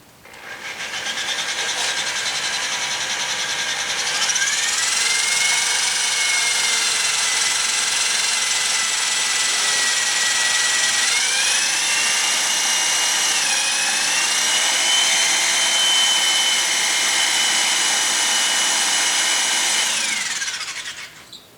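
A power drill cutting out the soft factory rivets on a C3 Corvette Stingray brake rotor, a loud continuous high whine running for about twenty seconds, its pitch shifting and wavering as the bit bites and eases, with no talk.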